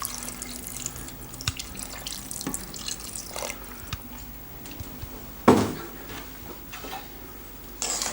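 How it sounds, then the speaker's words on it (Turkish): Water from a tap splashes and trickles while Hungarian goulash cooks, faint and intermittent with small drips and clinks, then a brief louder gush of pouring partway through, without speech. "Birazcık daha su koyuyoruz ve pişmesine devam ettiriyoruz."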